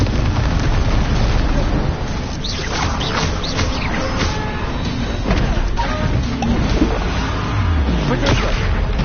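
Repeated Bombarda spell explosions in the Hogwarts Legacy video game pound and crash continuously in a dense battle mix of blasts, impacts and effects, loud throughout.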